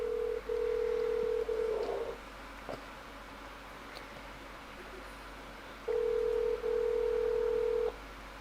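A telephone dialing: two bursts of steady dial tone about two seconds each, separated by soft clicks and quiet room noise, close and clear with no talking.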